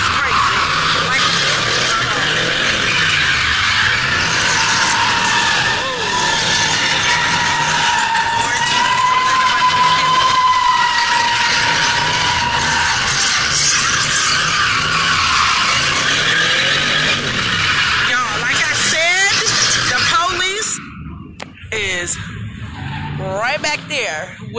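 Cars skid at an East Oakland street sideshow, tires squealing long and loud over revving engines and a shouting crowd, with people talking close by as the noise fades near the end.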